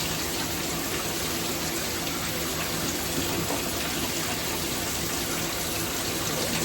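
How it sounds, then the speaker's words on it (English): Steady running water rinsing blonde dye out of locs, a continuous close gush of tap flow hissing without pause throughout. "Now we about to rinse the blonde dye out of our hair"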